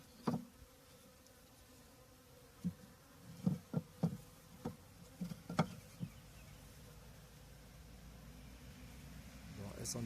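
Honeybees buzz around their hive, a faint continuous hum broken by sharp knocks and taps, with quiet speech in the background.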